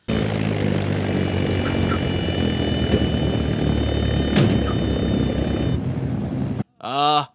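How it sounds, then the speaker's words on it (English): A propeller airplane whose fuel tank has been shot drones loud and steady in a 1993 film, its engine tone unbroken for several seconds before cutting off, followed by a short burst of voice. "The plane starts losing fuel due to the tank being shot."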